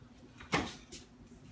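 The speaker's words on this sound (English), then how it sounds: "Should we open the door and let him in?" A home door opens with a single soft clunk and a brief rustling scrape over a low background hum, fairly close and quiet, with no talk during it.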